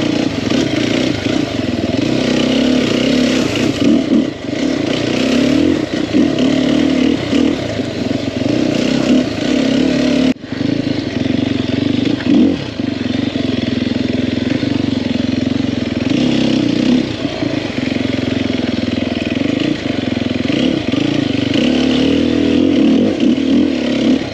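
A 2021 Sherco 300SEF four-stroke dirt bike runs steadily throughout, its engine droning loud and close with surging revs and some clattering from the ride, no talk over it.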